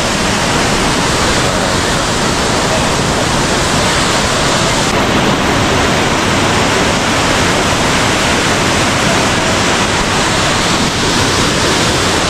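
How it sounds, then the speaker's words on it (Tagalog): Bulawan Falls in Baler, Aurora, with a loud, dense and continuous roar of falling water that stays constant throughout and masks all other sound. "Ayun falls, oh. Yung Bulawan Falls."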